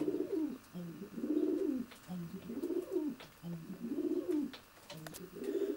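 Racing pigeons cooing inside a stock loft built into a garage, a repeated series of soft, low, rolling coos in a steady rhythm, close and fairly quiet.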